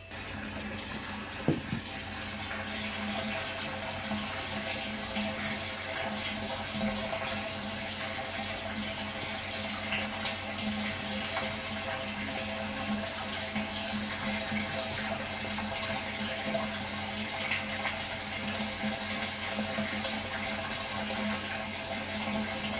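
Water from a new shallow well pump pouring into a container, a steady, continuous splashing rush that holds even and close for over twenty seconds with no talk.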